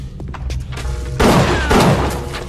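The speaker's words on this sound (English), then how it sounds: "Who's shooting me? There's somebody behind me?" Gunfire from enemies shooting at the player in the video game BioShock: two heavy, booming bursts of shots, the second following about half a second after the first, loud against a low rumbling game background.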